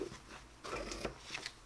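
Scissors cut through a sheet of laminate in a few short crisp snips and slicing strokes, close and quiet, with gaps between cuts.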